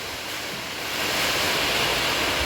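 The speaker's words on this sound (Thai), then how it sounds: "ตอนนี้เสียงฝน" Heavy rain falls at a newly built house during floor-pouring work, a dense, hissing roar that swells louder after the first second and then holds steady.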